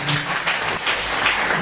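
Congregation clapping during a church service, a short burst of dense applause with a low murmur underneath.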